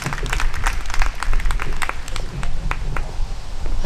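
Gala audience applauding at a celebration, a steady wash of many hands clapping, fairly loud and continuous throughout with crowd ambience.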